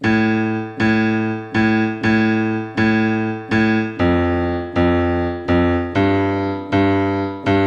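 Piano left-hand chords struck in a steady rhythm, each repeated three times before moving on, full and resonant with no voices.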